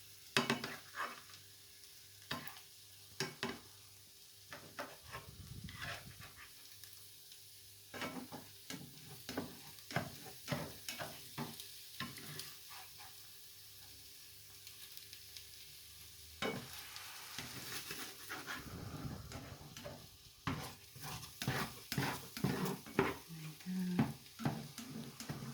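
Eggs and mushrooms frying in a pan: a soft, steady sizzle runs under repeated sharp scrapes and taps of a utensil, irregular and close, with occasional quiet stretches.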